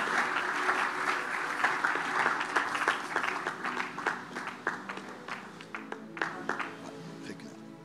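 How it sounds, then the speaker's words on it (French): Sustained applause from a church audience: dense, continuous clapping that fills the space, then thins into scattered, sharper claps toward the end. "On peut les acclamer?"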